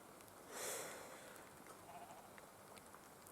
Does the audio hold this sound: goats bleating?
yes